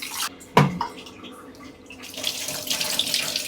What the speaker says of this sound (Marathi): पहिला धुवून घेऊ आणि पाणी टाकायचं